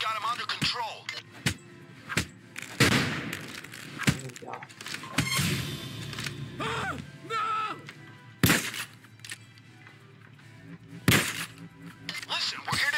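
Glass shatters during a Payday heist game, with several sharp crashes and impacts scattered through the stretch, mixed with game voices and other action noise.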